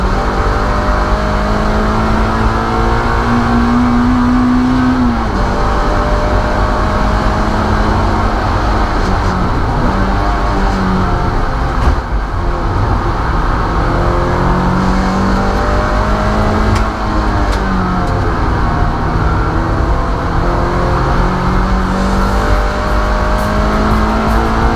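A Mazda MX5 race car laps Llandow Circuit, its engine droning loud and close with rising and falling revs through gear changes and corners for the whole stretch.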